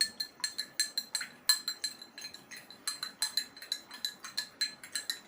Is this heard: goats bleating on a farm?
no